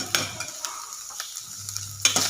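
Sambar masala being stirred with added sambar powder in a pan for vegetable sambar, giving close scraping strokes over a soft sizzle and low hum, with a brief pause midway.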